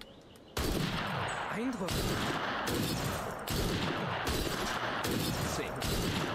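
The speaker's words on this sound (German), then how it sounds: "Sir, ich habe einen zweiten Schuss gehört." Repeated rifle shots in Assassin's Creed Syndicate, loud sharp cracks at regular intervals over a dense background, with a brief spoken word at the start.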